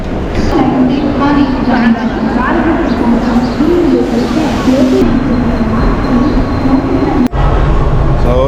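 Steady low rumble and rattle inside a moving morning commuter train from Panvel, continuous throughout, with murmuring voices blended into the noise.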